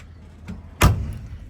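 A single solid car door on a 1969 Chevrolet Chevelle SS slams shut, a sharp low thud with a short rattle, preceded by a faint click.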